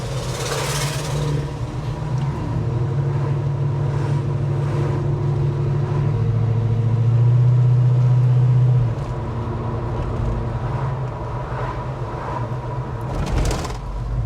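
A 1974 Gran Torino Sport V8 idling at a car show, a steady low rumble with a deeper swell in the middle, heard close and continuous with no talk.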